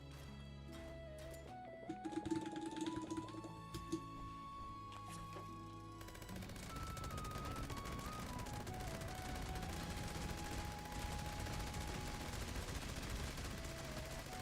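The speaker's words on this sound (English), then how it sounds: "why did you shoot at nothing?" Gunshots in the game Fallout 76: a steady stream of shots and clatter under a droning electronic tone that steps up and down in pitch, with the firing growing denser and more constant partway through.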